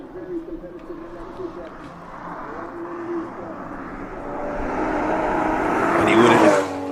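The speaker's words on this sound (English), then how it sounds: "in the Toyota Supra. Very good takeoff." A Toyota Supra launching at the Simola hillclimb, its engine note climbing steadily in pitch and loudness as it accelerates away, building to a peak near the end, with a commentator talking over it throughout.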